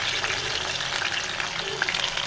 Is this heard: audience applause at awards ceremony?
no